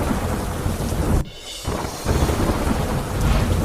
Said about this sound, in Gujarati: કાળા ડિબાંગ વાદળો વચ્ચે શરૂ થયો વરસાદ